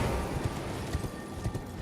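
Horse hooves clip-clop at a steady walking rhythm in Elden Ring (Convergence mod), set against a dense, continuous game ambience with no talk.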